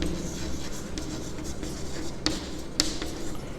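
Pen or pencil scratching across paper by hand, a soft continuous rubbing with a few sharper taps, close and fairly quiet with no talking.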